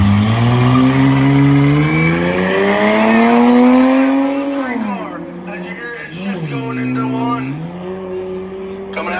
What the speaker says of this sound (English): he's full throttle, you hear him bringing her way out by that wall